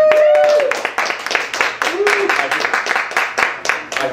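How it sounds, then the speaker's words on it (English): An audience applauds comedian Michael Furr on a talk show, with a burst of claps that thins out over several seconds while a voice talks over it. "Round of applause."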